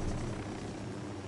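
A helicopter in the video game Ghost Recon Wildlands gives off a steady, dense rotor and engine drone. It holds at an even level for the whole short stretch, with no one talking over it.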